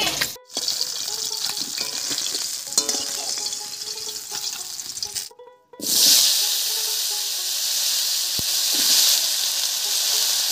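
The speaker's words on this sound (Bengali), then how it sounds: "তেলের উপরে কপি আর আলুটা দিয়ে একটু নাড়িয়ে নিয়েছি।" Kohlrabi and potato pieces dropped into hot oil left over from frying fish, giving a loud, continuous sizzling hiss that briefly cuts out and then surges back stronger.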